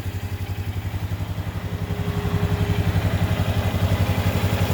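A Polaris Sportsman ATV engine runs close by with a jacked-up wheel spinning, a rapid rhythmic chugging pulse that grows louder and steadier over a few seconds.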